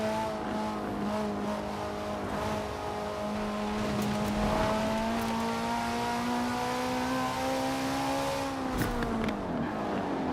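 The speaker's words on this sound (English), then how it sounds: "The engine sounds aren't the greatest, to be honest with you." Engine revving steadily in the Forza racing game, a loud sustained drone with rising and falling pitch and a brief shift near the end, with no talk over it.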